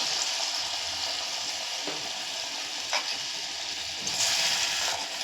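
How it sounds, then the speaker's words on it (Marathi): Small spoonfuls of bhaji batter, made without onion or garlic, fry in hot oil with a steady bright sizzle, accompanied by a few soft clinks of a spoon and a bubbling surge near the end. "आता आपण तेल तापलंय, भजी सोडून घेऊ."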